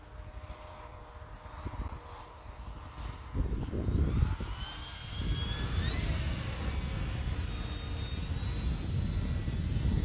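An E-flite Turbo Timber Evolution 1.5m electric RC plane flies overhead, its motor whine rising and sliding in pitch as it passes and climbs, steady and fairly close against outdoor wind.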